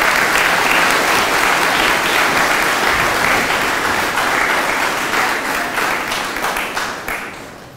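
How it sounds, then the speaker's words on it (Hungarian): Sustained, dense applause from an audience at a vocational school diploma ceremony in Transcarpathia, steady and loud before slowly tapering off. "úgy vélem, hogy az ünnepnek megfelelően a ma végzett fiatalok megérdemelnek egy tapsot"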